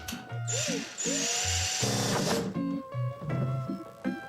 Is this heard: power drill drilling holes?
yes